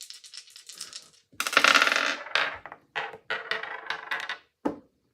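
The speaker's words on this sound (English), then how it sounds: "because that dice traveled like halfway across the table" Dice are thrown and roll across a table in a tarot-style reading, a series of close, sharp clattering bursts and tumbling rattles with brief pauses between, ending in a last small knock, with no voices.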